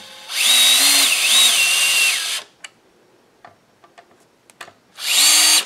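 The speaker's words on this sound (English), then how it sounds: "if you have a a drill, a cordless drill, drill driver." A cordless drill driving screws to bolt on a guitar neck whines loudly for about two seconds, ramping its pitch, then falls silent with a few light clicks and taps before a second burst of drilling.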